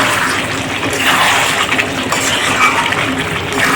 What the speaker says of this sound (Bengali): তারপরে আমি জল দেবো একটু